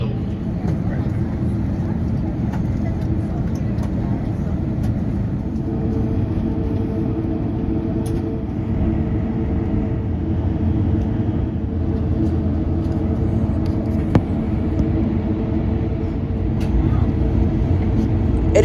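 Cabin noise aboard a British Airways A350 as it taxis to the runway: a steady, loud low engine rumble with a constant airy hiss, continuous throughout with faint muffled voices.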